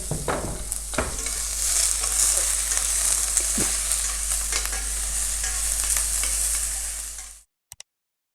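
Green chili, carrots and onions frying in a pan, a loud steady sizzle with scattered stirring clinks, cutting off abruptly near the end.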